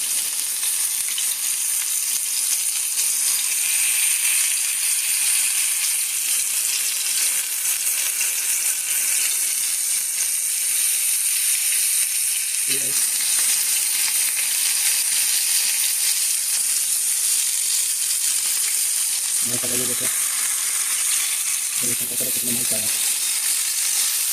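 Chicken seekh kebabs fry in a pan over low heat with a steady, close sizzle that hisses throughout, broken by a few brief knocks or stirring sounds.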